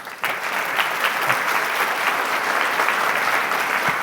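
Conference audience applauding after a software professionalism talk, a steady, fairly loud wash of clapping from a large crowd lasting several seconds.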